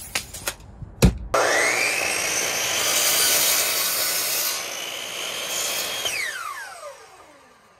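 A power saw cuts flooring boards for a DIY Sprinter van floor, starting after a few knocks and sharp bangs, then a loud, steady whining cut that runs for several seconds before the motor winds down.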